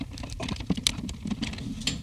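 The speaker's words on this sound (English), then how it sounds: "Let's take off the batter head." Metal drum key loosening the tension rods on a snare drum batter head, an Adam Percussion Atomic Sound snare; light clicky ticks and small scrapes in an irregular patter, close up, with no talking.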